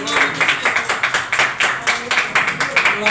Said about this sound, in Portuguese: E as palmas do nome de Jesus